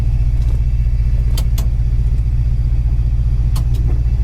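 A 1969 Dodge Super Bee with a 440 Six Pack V8 and four-speed idles close by, a loud, steady lumpy rumble with faint clicks and ticks over the top.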